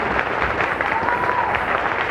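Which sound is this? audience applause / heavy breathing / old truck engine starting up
audience applause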